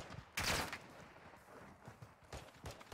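A video game shooter lets off gunfire: one loud burst, then lighter shots and a second burst a couple of seconds later, all over a low hum of game noise.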